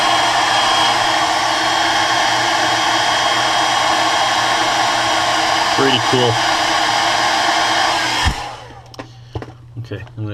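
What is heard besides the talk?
hair dryer drying crackle paint on a crankbait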